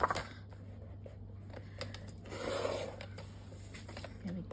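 Paper is cut on a paper trimmer with a worn blade during a card-crafting session, making a quiet scraping rasp that rises briefly in the middle, with faint handling noises around it.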